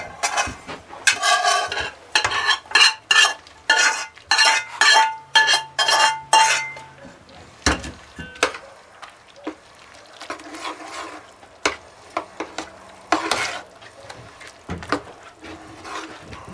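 Cooked noodles being stirred into a melted cheese sauce for Panera-style mac and cheese: a series of wet, rhythmic scraping and clinking strokes of a utensil against a pot, close and loud at first, then thinning out into sparser taps, with no talking.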